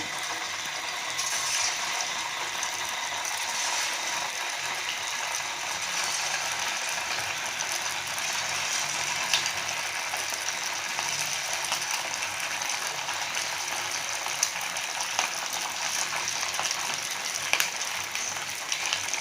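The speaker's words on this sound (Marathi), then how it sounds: "आता आपण ह्याला तळून घेऊया। आपलं तेल छान गरम झालेलं आहे।" Rava gulab jamun balls fry in hot oil over a low flame, giving a steady, even sizzling hiss that holds at a constant level from start to finish with no talking.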